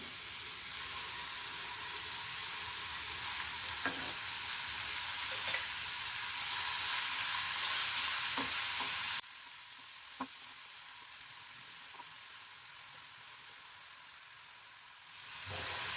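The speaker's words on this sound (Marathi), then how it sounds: "तुम्ही बघताय कांदा पण आपला छान परततोय" Onion sautéing in oil in a pan for matar paneer, a continuous close sizzle and hiss with a few faint clinks from stirring, cutting sharply quieter partway through and then swelling again at the end, with no talk.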